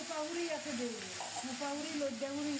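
Ground garlic and onion paste fries in a pan with a soft, steady sizzle and hiss, while a faint tonal voice hums underneath.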